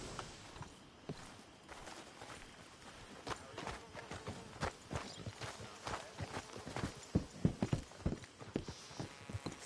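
Horse hooves clip-clopping in the Red Dead Redemption 2 video game, a steady irregular run of faint thuds close by, with quiet ambience and no clear whinny.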